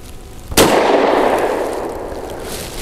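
A single sharp 9mm pistol shot fired with PMC Bronze ball ammunition rings out loud and close, its blast decaying into a long echoing tail, with no talking.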